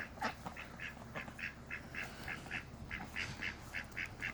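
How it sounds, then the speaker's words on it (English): Ducks quacking in a garden, a run of short, rhythmic nasal calls repeating steadily at close to moderate distance over faint background noise. "Ducks are out."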